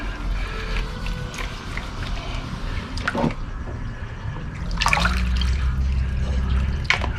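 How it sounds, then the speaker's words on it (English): Water pours and splashes over gold-banded ore in a pan, washing off the loose surface material; a steady trickle runs throughout with louder sloshing bursts near the middle and end. "All I'm doing is just washing the top surface stuff off."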